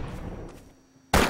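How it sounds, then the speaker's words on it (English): A rocket launcher fires in Half-Life with one sudden loud broadband blast near the end, following a stretch of quieter, muddy in-game ambience. "now that I have a working rocket launcher"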